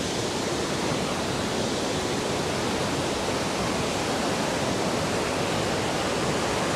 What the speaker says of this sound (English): Maiklang Waterfall.